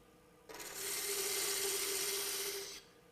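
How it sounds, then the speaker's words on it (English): A parting tool held on edge cuts a groove into a wooden spindle on a wood lathe, producing a steady, bright hissing scrape that starts abruptly and runs for about two seconds before stopping. "the parting tool gets used on edge like this to make a groove"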